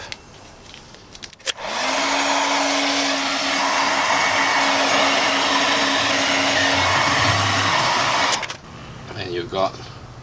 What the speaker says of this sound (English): we'll just use the heat gun to shrink it up